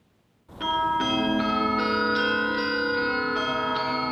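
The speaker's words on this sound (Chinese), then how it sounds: "较长的钟声伫拢无人的街路顶响起，气氛特别沉重。" A church bell tolls over empty streets in wartime Odesa, Ukraine, its long ringing strikes sustaining and overlapping, loud and close, with fresh strokes about every half second and no voices.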